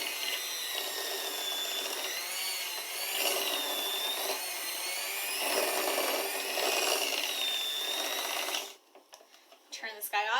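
An electric mixer whirs steadily as cocoa nibs are worked into chocolate shortbread dough, a continuous motor drone with slight wavering pitch, then cutting off near the end to leave quieter handling noises.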